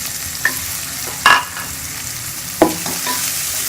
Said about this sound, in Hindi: इसको अच्छी तरह से भून लेंगे। हमारा मसाला अच्छी तरह से गल जाए।